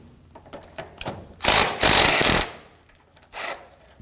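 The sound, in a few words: ratchet with 15mm socket removing bolts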